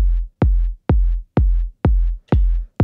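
Electronic techno kick drum from a modular synth sequencer playing a steady four-on-the-floor pattern: six loud, evenly spaced deep thumps with short decaying tails, no other sounds.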